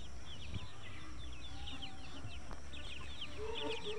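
Tiger chickens on a poultry farm give soft, scattered clucks and chirps against a steady low background hum, with no talk and no crowing.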